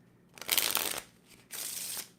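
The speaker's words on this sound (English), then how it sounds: "Now it looks like I'm really shuffling, and this looks like I'm really cutting the cards" A deck of playing cards riffled in a false shuffle during a magic card-control demonstration: two close, crisp riffle bursts separated by a short pause, with no speech.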